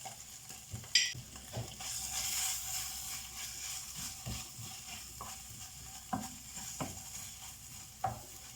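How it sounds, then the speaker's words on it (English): Tomato paste is stirred into a sizzling saucepan, a faint steady frying hiss broken by scattered scrapes and clicks of a utensil against the pan. "this is the time to add some sauce to it. And I'm adding tomato paste."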